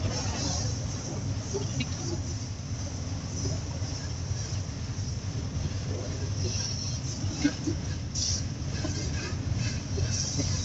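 A long mixed freight train carrying oil tanker cars rolls past at Railway Days in Rochelle, Illinois, a steady moderate rumble and rattle of wagons with faint voices now and then.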